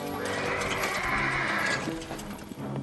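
A chariot horse lets out a loud, drawn-out whinny that rises and trails off, followed by a few softer snorts and rustles nearby.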